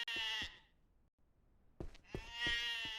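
Sheep bleating in the Ranch Simulator video game, two close, loud bleats separated by a short quiet gap, the second longer and wavering, with no talk over them.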